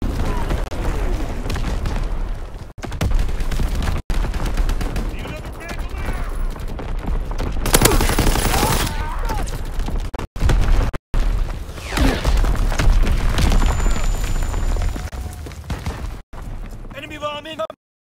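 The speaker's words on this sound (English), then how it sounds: "Incoming enemy artillery." Artillery barrage from enemy fire in the Call of Duty: WWII video game, loud booms and gunfire bursts rolling continuously with short gaps, mixed with game voices and battlefield noise.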